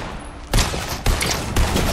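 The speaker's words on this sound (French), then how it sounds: "Je mets une balle juste pour le faire fuir." Rapid bursts of automatic gunfire in a battle royale game, three loud volleys starting at half-second intervals, each a dense rattle of shots close up with no talk over them.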